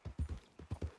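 Horse hooves clip-clop in the video game Red Dead Redemption 2, six quick soft muffled hoofbeats in two groups of three, faint and close.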